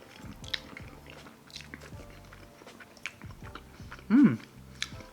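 Carne asada fries being chewed close up in a mukbang, with a string of soft wet chewing and crunching sounds and one loud, sharp bite near the end. No one speaks.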